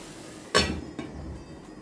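A lid is set onto a cooking pan with a single sharp metallic clank, followed by a fainter second knock as it settles, close by with no talking.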